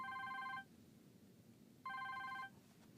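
A telephone rings in two distinct bursts with a pause between them, clear tones standing out over a quiet indoor room with no talk.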